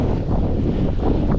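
Strong wind roaring steadily across the microphone during a winter bikepacking road ride, loud continuous rumble with gusty swells and no talking.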